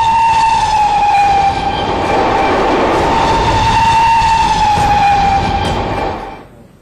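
Talgo passenger train running along the track in India, a loud sustained roar of wheels and motion with a steady horn-like tone on top, close and continuous before fading out at the end.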